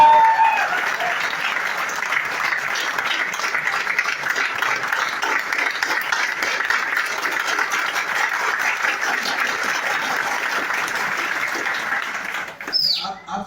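A large seminar audience claps loudly and continuously, a dense even roar of hands that lasts over twelve seconds and then breaks off abruptly at the end.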